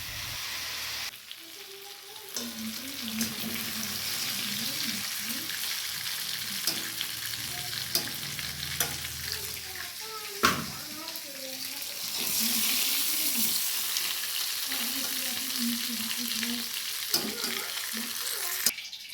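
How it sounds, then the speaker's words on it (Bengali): Potato pieces fry in hot oil while being stirred in a pan, giving a continuous loud sizzle with scraping and clattering from the stirring throughout and brief breaks in the stirring. "এইভাবে ভালো করে নাড়াচাড়া করে আলুগুলোকে ভেজে নেব"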